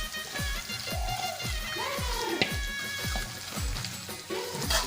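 Onion bhajiya (pakora) batter frying in hot oil in a kadhai: a dense, steady sizzle with bubbling crackles and repeated soft scraping stirs, close and moderately quiet, with no talking.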